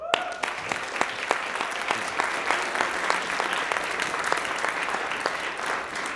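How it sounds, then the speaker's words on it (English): An audience at a university union debate breaks into sustained applause, a dense, steady patter of many hands clapping close by from start to finish, with a brief voice at the very beginning. "could we just get a round of applause for everybody that helped pull this off today?"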